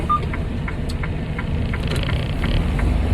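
A car reversing in a straight line on snow: a low, steady engine rumble close by, with faint light ticks and no talking.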